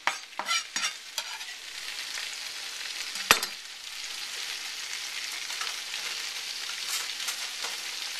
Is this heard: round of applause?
no